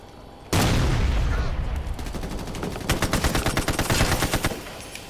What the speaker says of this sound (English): This AK is OP if the fire rate actually work.